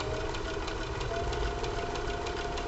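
A sewing machine runs steadily at speed, stitching a zippered pistol case, a continuous mechanical whir with rapid needle chatter held at an even level throughout, close by and with no talking.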